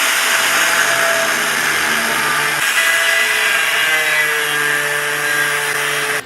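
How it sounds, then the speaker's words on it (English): Angle grinder cutting steel pieces for a welding cart, with a loud, steady abrasive whine that runs without a break for the whole stretch and dips only slightly partway through. "so we can just use the angle grinder on that"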